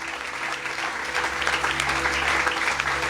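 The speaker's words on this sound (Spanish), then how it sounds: "Eso, dele palmas al Señor." A church congregation clapping to the Lord, loud and steady rhythmic hand claps filling the room, with a low sustained musical hum underneath and no clear speech.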